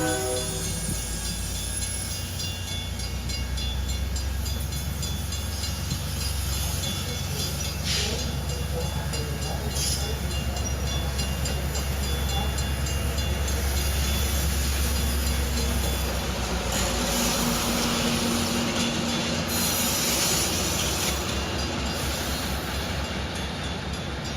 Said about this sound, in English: I made an exception for the Rock Island locomotive down at Blue Island.